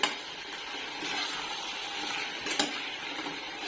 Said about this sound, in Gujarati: હવે બધા મસાલા મિક્સ થઈ ગયા છે. હવે આપણે છે ને આને 2 થી 3 મિનિટ સુધી સાંતળવાનું છે